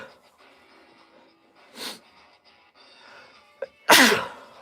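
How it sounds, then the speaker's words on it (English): A sharp, loud allergy-season sneeze bursts out near the end, preceded by a smaller sniff or snort, with quiet background sounds between. "you're going to hear me sneezing a lot"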